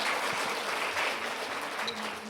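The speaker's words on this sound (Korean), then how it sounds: "제가 사실은 확인하려고 좀 이렇게 해서 박수했는데" A congregation applauding during a Sunday church service, steady dense clapping from many hands in a large room that continues throughout.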